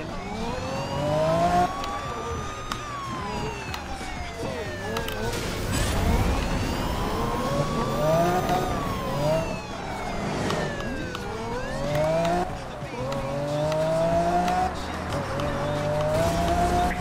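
A naturally aspirated car engine revs and shifts repeatedly in Need for Speed Rivals, its pitch sweeping up and dropping between gears over a steady roar, with siren-like wails and tire noise mixed in throughout.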